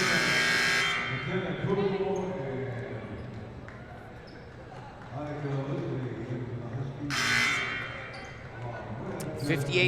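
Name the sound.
buzzers at a girls' basketball game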